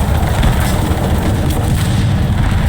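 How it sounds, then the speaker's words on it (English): A loud, continuous explosion rumble in a World War II-style tank battle game on a North Holland map, with dense roaring noise that stays steady for the whole stretch and no talking over it. "the explosion blew our track off"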